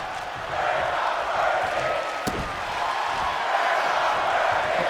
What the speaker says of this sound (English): Crowd loving the show tonight.